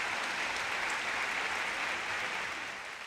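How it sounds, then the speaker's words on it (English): Steady applause from a tennis crowd for champion Karolina Pliskova after her WTA final win at the Toray Pan Pacific Open, a dense, even wash of clapping that holds throughout and eases slightly near the end. "please give another huge round of applause to the champion, Karolina Pliskova"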